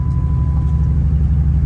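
Deep, steady engine rumble from a Chrysler SRT, a loud low throbbing drone held for under two seconds with no break.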